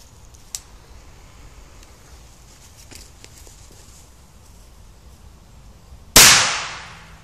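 A single sharp Pyrocracker firecracker bang near the end, loud and sudden, followed by a fading echo after a long stretch of quiet outdoor ambience.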